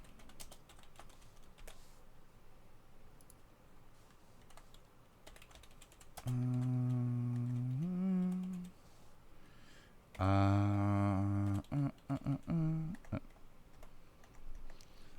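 Light, rapid clicking of computer keyboard keys runs throughout, with a voice breaking in twice over the typing for a few seconds each.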